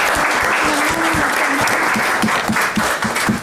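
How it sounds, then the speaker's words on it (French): Applause from an audience at a school quiz match, a steady wash of clapping with a voice speaking briefly over it. "Bravo, on va vous applaudir."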